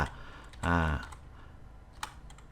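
A few keystrokes on a computer keyboard while text is entered into a PDF, close and light clicks broken by a short humming tone, with one sharper click near the end.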